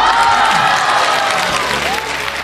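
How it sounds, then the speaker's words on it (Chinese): A studio audience on a television relationship show claps in a dense, loud burst of applause, sustained for a few seconds. "现场观众还没弄明白两人故事的细节，都因孔老师的一句话用掌声在批判这个坏男人。"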